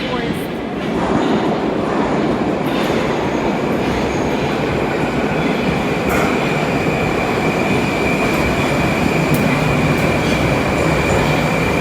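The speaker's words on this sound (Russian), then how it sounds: "Идет поезд." A Moscow metro train rolls into an underground station with a loud, sustained rumble, wheel noise and a high steady whine, with faint voices under it.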